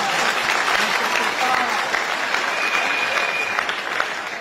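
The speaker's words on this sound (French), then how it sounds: "Est-ce que vous pouvez applaudir, Seigneur?" Loud, dense applause from a church audience at a political prayer gathering, sustained throughout with a few faint voices and whistles in the crowd.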